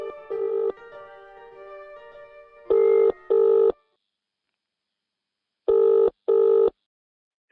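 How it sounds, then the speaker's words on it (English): A telephone rings in two pairs of short, loud trills separated by silence, after a held electronic tone fades out. "And Helen decides to give Susie a ring."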